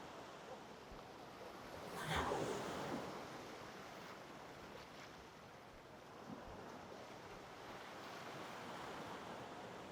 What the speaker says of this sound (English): Staying here with the sound of the waves.